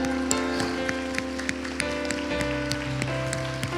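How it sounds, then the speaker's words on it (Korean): A church congregation at a Sunday worship service in Daejeon claps in a dense patter of sharp hand claps over a sustained keyboard tone, with no talking. "우리 하나님께 가장 큰 박수 영광 돌리십시다"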